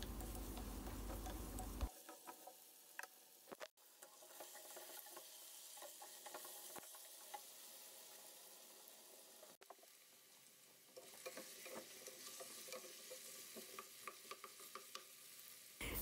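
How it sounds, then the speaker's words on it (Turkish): Carrots and potatoes sautéing in a pan, a steady soft sizzle with scattered stirring scrapes and clicks, quiet and close, with no voices. "patatesleri de ekleyerek kavurma işlemine devam edelim"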